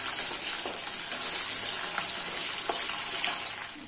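Shallots and green chillies sautéing in a pan, a steady close hiss of frying with occasional faint stirring taps, continuous and fairly quiet.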